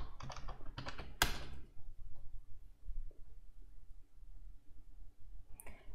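Keys clack in a quick burst of typing at the start, followed by a few scattered isolated taps over quiet room tone, entering a username and password at a computer keyboard.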